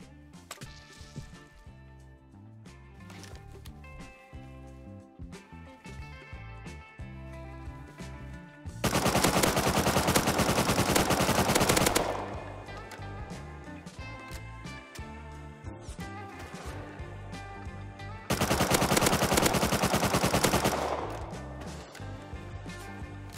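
Automatic gunfire in the survival game Rust, two loud sustained bursts of rapid shots a few seconds long, separated by stretches of quieter background game sound and clatter.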